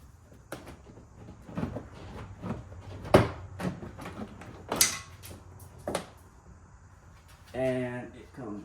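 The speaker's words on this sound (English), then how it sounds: "Now, once you get all your bolts off, you should just be able to lift up on the door panel." A Ford F150 door panel being lifted off during a mirror and turn-signal install gives a series of sharp plastic clicks and knocks, with a rattling clatter near the end, over someone talking.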